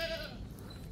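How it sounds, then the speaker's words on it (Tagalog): Goats on a farm give a single short bleat, fairly faint and close, against quiet outdoor background noise. "Mga kambing natin karamihan nandito"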